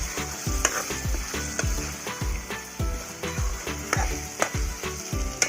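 Onion, potato and vegetables fry in a pan with rhythmic scraping and stirring strokes about twice a second, a steady sizzle running underneath.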